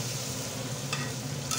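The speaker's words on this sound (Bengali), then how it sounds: "মাছগুলো ভালোভাবে কষিয়ে নিয়েছি। কড়াইতে মাছ একটু লাগা লাগা হলে ভালো হয়।" Fish pieces are stir-fried in a kadai until they begin to catch on the pan. A steady low sizzle and frying hiss carries under occasional soft stirring scrapes, with no one speaking.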